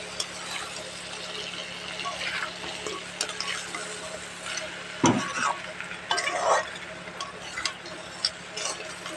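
Masala crab cooks in a pan with a soft background sizzle, then a spoon stirs and scrapes through the thick mixture in a burst of clatter midway, with faint talk underneath.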